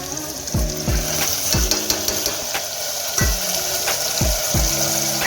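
Mixed beans being dropped into a hot pan sizzle steadily, with a run of sharp thuds and clatters as they land and settle, and no talking.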